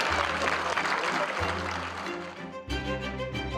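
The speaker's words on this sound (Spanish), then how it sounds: "Vamos a darle un aplauso, por favor, a Oso." Applause from an audience at a ceremony honoring a Mexican federal police canine unit, broad steady clapping with a low hum beneath, fairly loud and continuous.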